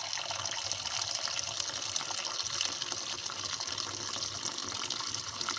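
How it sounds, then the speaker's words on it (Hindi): Milk poured steadily into a clay pot for homemade yogurt, a continuous liquid trickle and splash heard up close throughout, with no talking. "अब एक मट्टी की हांडी लेंगे या जिसके अंदर आपने बनाना हो दही को, उसके अंदर दूध डालते जाएं"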